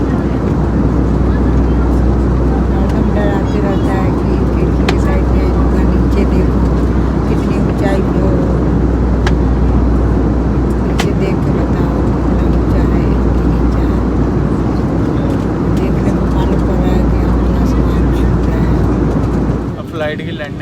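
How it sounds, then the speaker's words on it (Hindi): Steady, loud airplane cabin roar during a passenger flight's landing descent, a dense broadband engine drone filling the whole stretch and dropping away briefly at the end. "अब प्लेन नीचे उतर रहा है"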